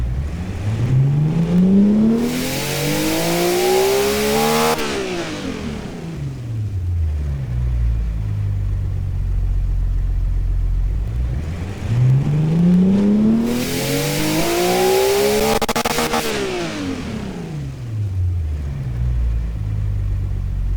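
A car engine in the video game Automation revs up twice, pitch climbing steadily to a high whine and then dropping back, each pull ending in a hissing release.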